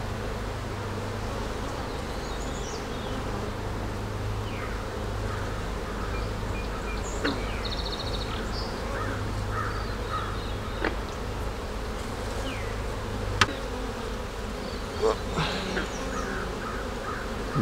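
Honeybees buzz around an open hive during a colony inspection, a dense steady drone close by with a lower hum running underneath, occasional faint clicks and a distant bird call, no voices.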